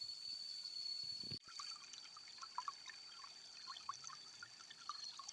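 Creek water flows in a soft, steady trickle outdoors, faint and continuous, with a brief louder rush near the start and scattered small chirps above it.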